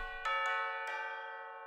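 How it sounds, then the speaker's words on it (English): Tubular bells from a song ring out in three quick struck notes, each a bright metallic clang that lingers and slowly decays, clear and alone. "I hear the tubular bells."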